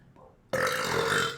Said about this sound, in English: Excuse me, beer burp.